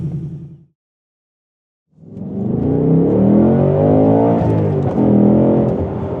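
A 2024 Ford Mustang GT Performance Package with a naturally aspirated V8 idles briefly, cuts out, then accelerates hard with a loud, rising engine roar through the gears.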